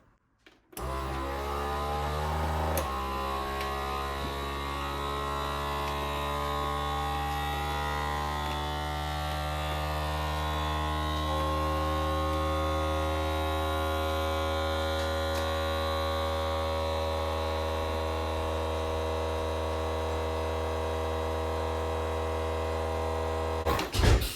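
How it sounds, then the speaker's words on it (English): An electric vacuum sealer pumps the air out of a glass jar of shelf-stable rice, a steady motor hum and whine running unbroken for over twenty seconds at close range with no voices. "When the air has all been sucked out of the jar, the machine will automatically stop and release."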